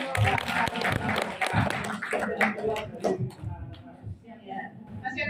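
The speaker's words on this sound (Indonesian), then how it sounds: "Terima kasih tepuk tangan untuk Bapak." A group claps for a participant at a training session, a short burst of scattered hand claps mixed with talking voices that thins out toward the end.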